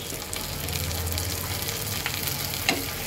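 Chopped tomato fries in a pan, producing a dense, steady sizzle close by with a low hum underneath and one sharp scrape as it is stirred near the end.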